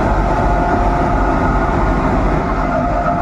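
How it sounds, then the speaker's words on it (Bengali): A WDM 3A diesel locomotive stands with loaded stone-carrying freight wagons at platform 6 of Azimganj Junction, its engine producing a loud, steady, continuous rumble and drone close by, without talk. "পুরো লোড ববিয়ান নিয়ে একদম ডিজেল ইঞ্জিন দাঁড়িয়ে রয়েছে আজিমগঞ্জ জংশনের 6 নম্বর প্ল্যাটফর্ম"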